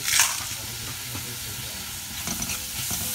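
Small onions sautéing with salt in an iron kadai, giving a steady close sizzle with occasional stirring scrapes, no talking.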